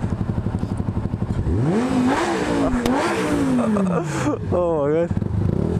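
A Yamaha R125 motorcycle engine idles and then revs hard several times, rising and falling in pitch with a rapid burst near the end, loud and close, while a person exclaims briefly.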